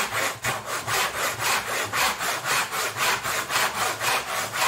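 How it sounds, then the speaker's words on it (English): A budget dovetail hand saw cutting wood in short, even strokes, about a dozen rasping back-and-forth pulls in a regular rhythm, close and clear with no talk. "I'm just letting the saw do the work."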